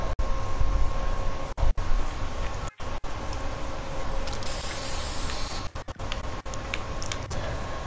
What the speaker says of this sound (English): They were just putting down the spray paint.